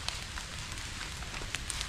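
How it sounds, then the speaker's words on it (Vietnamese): A large campfire burning in a forest for roasting birds, steady dense crackling and hissing with scattered sharp pops, close and continuous, no talk. "Bây giờ lại đốt một đống lửa rất là to này"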